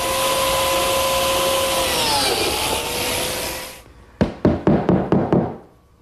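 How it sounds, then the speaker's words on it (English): A biscuit joiner cuts slots in a tabletop, guided along a clamped level: a loud, steady motor whine runs for about four seconds and winds down, then a quick series of sharp wooden knocks follows. "I'll simply run the biscuit joiner against the level and cut the slots"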